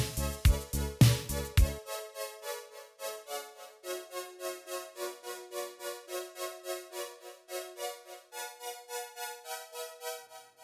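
A synth line from a song with a soft attack and a tempo-synced delay plays alone: a few bright chord stabs at the start, then repeating notes that echo in an even pulsing rhythm.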